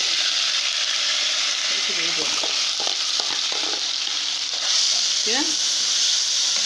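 Onions frying in a pan for a baked béchamel pasta dish, a steady loud sizzle with light stirring scrapes throughout and a brief spoken word over it.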